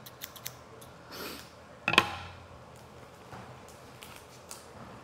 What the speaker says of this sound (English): Today I'm doing Pokemon cards with scissors